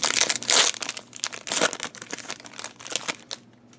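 Crinkling foil wrapper of a Pokemon TCG card pack being torn open and handled, with several loud bursts of crackling and crumpling close up, no talking.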